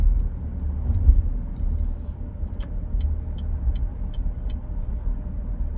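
A car driving on a road, heard from inside the cabin as a steady low rumble with faint ticking clicks in the background.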